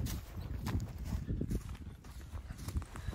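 Hooves of a horse clip-clop at a walk near a corral, a steady close rhythm of dull hoof strikes over ground lasting about three seconds, with no talking.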